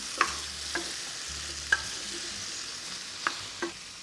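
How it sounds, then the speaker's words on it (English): Tomatoes and garlic sizzle steadily in a pan, a soft continuous frying hiss broken by a handful of light scraping stir clicks from a utensil, close and moderately quiet with no talking. "the garlic is starting to soften up, and now we're gonna add our tomatoes. Stir that in."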